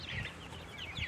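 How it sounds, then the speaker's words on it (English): Duck calls from a couple of crested ducks and a runner duck, two short bursts of quacking near the start and end, close and moderately loud over a steady low background. "I got two crested ducks, and I got a runner that's not doing too good"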